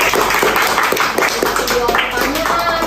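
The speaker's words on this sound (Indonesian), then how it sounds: "Tepuk tangan untuk Aldo." A group of students claps for a classmate named Aldo during a group counseling session, a dense, steady patter of hands filling the room with voices murmuring underneath.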